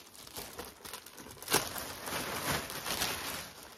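Crinkly plastic packaging of a clothing parcel being opened, with steady close rustling and crumpling, a sharper tear-like burst near the middle, then continued handling noise.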